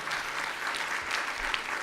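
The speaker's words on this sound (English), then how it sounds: "Can I get a round of applause?" A steady wash of audience applause fills the whole stretch at an alumni event, dense and even, heard at some distance, faint and without talk over it.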